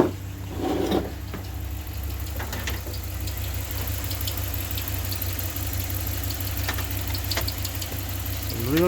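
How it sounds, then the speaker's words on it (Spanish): A Hemi 5.7 V8 idles steadily with a low, continuous rumble, close up, while faint irregular internal ticks and knocks sound through it. "El ruido lo tenemos por la parte del motor."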